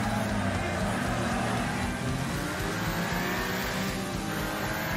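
Video game car engine roaring loud and steady for the whole stretch, a dense rumble with rising and falling rev tones, close and continuous with no voices.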